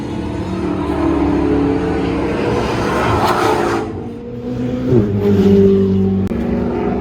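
A Ford Shelby GT500 Mustang accelerates around the Nelson Ledges race track, heard from inside the car as a loud, steady engine drone that climbs in pitch, dips briefly during a shift, then pulls hard again.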